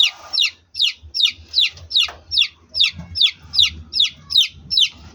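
A lone young chick, in a setting where pigeons are kept, calls loudly and repeatedly with sharp, evenly spaced high peeps, about a dozen in five seconds, over faint low background noise.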